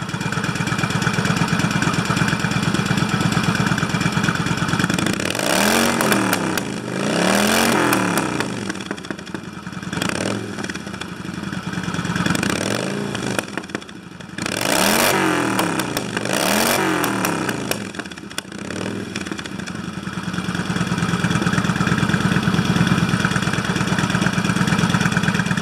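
A Kawasaki Vulcan VN1500A (VN88) cruiser motorcycle engine idles with a steady clattering rumble, broken by several throttle blips and revs that rise and fall, recorded close with no talking.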